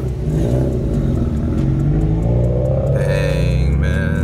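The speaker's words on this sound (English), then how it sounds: "Man blew his turbo, cause the vacuum line popped off the wastegate" Engine of a stage 4 big-turbo BMW 335i on E85 running after its turbo blew from a vacuum line popping off the wastegate; a loud, rough idle and brief rev with whirring and clatter, close up.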